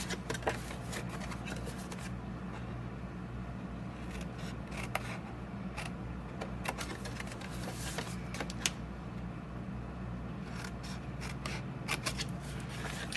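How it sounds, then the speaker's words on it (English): Scissors snipping Stampin' Up cardstock while shaping a box, producing a run of quick, close, dry cuts and small paper rustles in irregular bursts, quiet and without any voice. "then I'm going to cut off this little square and rectangle"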